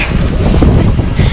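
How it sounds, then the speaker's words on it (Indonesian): Strong wind roars and buffets the microphone with a heavy, continuous rumble near the summit of Mount Ungaran, loud and close, with no voices. "Masih ditemani dengan angin kencang."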